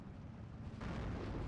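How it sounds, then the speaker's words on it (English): A heavy artillery barrage landing in the wargame Steel Division 2, a dense continuous rumble of distant blasts that swells louder partway through, with no talk. "The big arty now coming in."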